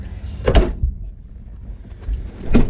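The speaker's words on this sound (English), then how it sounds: "Better make sure we got that door shut." The door of a 1951 Chevrolet 3100 pickup truck, a rat rod, shuts with a near, solid thump, followed by a second sharp clunk about two seconds later over quiet background.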